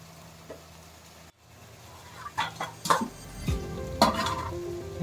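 An egg is cracked onto sizzling Hungarian sausage sisig, with a soft crackle building into bursts of sizzle and faint clinks of utensils, fairly quiet overall and without talk.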